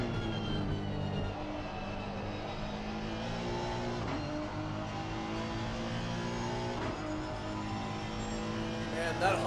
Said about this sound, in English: that Honda engine sounds weird